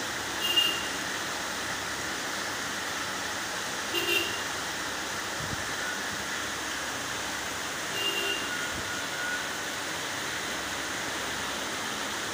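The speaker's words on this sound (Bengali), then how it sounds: "বাইরে যে পরিমাণ বৃষ্টি বর্ষা হচ্ছে সেটা দেখতে পাচ্ছ তোমরা।" Heavy monsoon rain pours steadily outside, a dense even hiss that fills the whole clip, with a few faint clatters and brief swells rising out of the downpour.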